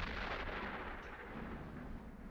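A low, rumbling boom rolls on without a break, faint and far away, like cannon fire echoing in the distance.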